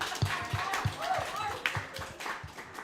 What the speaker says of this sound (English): One person clap for Mark.